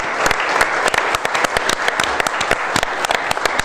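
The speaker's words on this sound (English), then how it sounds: "we could give them a big round of applause too" A crowd applauds steadily at a school committee meeting, dense clapping filling the room with a few sharper claps standing out.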